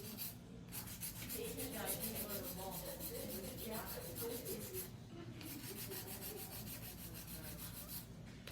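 A 100 grit filer files acrylic nails in steady, close rasping strokes that continue evenly throughout with brief pauses, and no talking.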